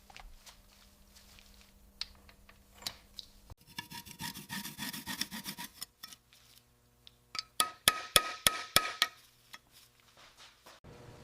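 Honing tool working the freeze plug bores of a 1962 Corvette engine block: a steady rubbing rasp, then a run of sharp, evenly spaced metallic clicks and scrapes, close and fairly quiet, with no talking.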